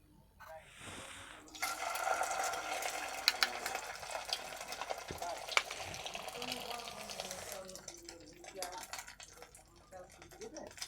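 Egg-coated snacks fry lightly in oil: a quiet start opens into a broad, fairly soft sizzle with light stirring, which fades near the end, with a low voice faintly present.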